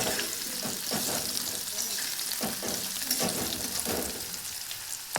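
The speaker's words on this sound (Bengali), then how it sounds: "কচু আলু এগুলো একটু ভেজে নিলাম।" Taro and potato pieces fry in a pan, a steady close sizzle with a few louder bursts of spatter and stirring throughout.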